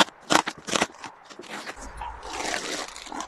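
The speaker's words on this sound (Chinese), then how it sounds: "我来拆箱看一下。" A cardboard box of Phalaenopsis moth orchid plants being unboxed: sharp tearing and scraping of cardboard and tape in quick bursts, then rustling of packing material, close and fairly loud.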